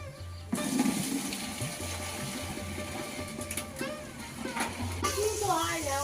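Fetched water pouring into containers at home, a sudden gushing splash that runs continuously for several seconds, with some background voices and clatter.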